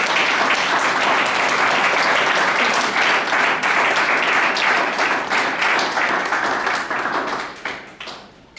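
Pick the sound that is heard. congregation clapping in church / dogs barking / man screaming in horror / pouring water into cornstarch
congregation clapping in church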